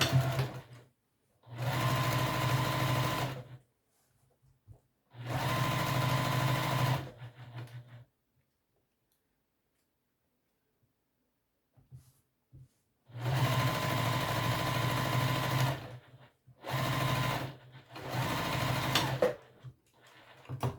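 A sewing machine stitching a seam about a quarter inch from the fabric edge, several bursts of fast, even whirring and clatter separated by quiet gaps, close and clear with no talking.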